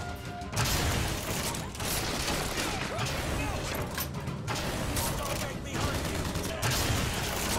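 Gunfire from the video game Bioshock Infinite: dense, continuous shooting and mechanical clatter, loud throughout, with brief dips between bursts.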